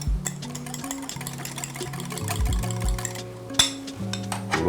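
Warm bechamel and egg yolks being blended together for Greek pastitsio, a busy run of stirring and clinking against the bowl with hints of sizzling from the stove, steady and close, with a steady tonal hum running underneath.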